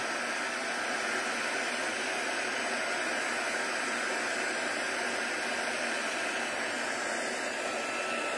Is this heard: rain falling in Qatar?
no